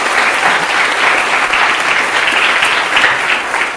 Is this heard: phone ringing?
no